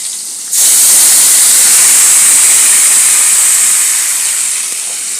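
Partly fried potatoes in a pan erupt into a loud, steady hiss of steam and sizzle as water is poured in, the broadband rush easing slightly toward the end, with no talking.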